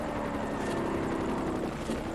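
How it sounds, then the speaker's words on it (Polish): A helicopter flies through mountains in Forza Horizon on Xbox 360, its rotor and engine drone steady and continuous, moderately loud throughout. "helikopter jest szybszy ode mnie, bo on sobie między górami jednak leci"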